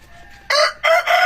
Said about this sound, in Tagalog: Yung mga manok dito sa probinsya, yun yung maririnig mo sa tuwing umaga.